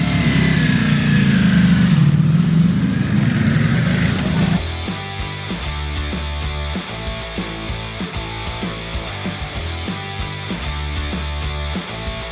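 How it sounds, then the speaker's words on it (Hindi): A V4 motorcycle engine roars loudly at first, then settles into a rhythmic, pulsing idle with repeated throttle blips. "It's a V4 engine obviously, बहुत इंटरेस्टिंग राइड है। The sound is very very good"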